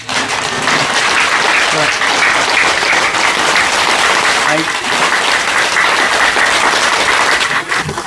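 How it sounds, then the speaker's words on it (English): Loud, continuous hand clapping from many people fills the space in a dense, unbroken wash, with voices faintly mixed in underneath. "rather than holding them, clapping is better like this"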